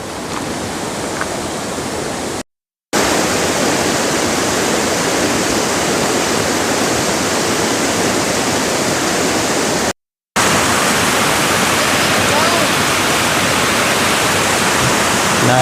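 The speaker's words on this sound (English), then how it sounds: "for a lot of the rest of the hike, we get to hear the creek right next to us" Creek water rushing beside a hiking trail near Battle Creek Falls, a loud, steady, broadband roar that fills the whole stretch with no voices, broken only by two brief silent gaps.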